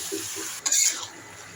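Bottle gourd goes into a pan of sautéed pigeon meat, giving one brief, close hiss of sizzling and stirring after a couple of soft taps.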